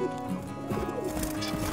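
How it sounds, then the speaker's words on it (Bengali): Pigeons and finches, including a male zebra finch, in a home aviary give soft cooing and chirping calls that blend into a steady, close-range mix of bird sounds with no talking. "তো সব এখানে আছে পাখিগুলো।"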